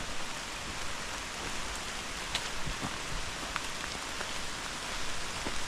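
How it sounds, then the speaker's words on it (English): Steady rain falls on a muddy hiking trail at Gathland State Park on the Appalachian Trail, a constant soft hiss dotted with occasional distinct drops, with no talk. "I don't mind the rain."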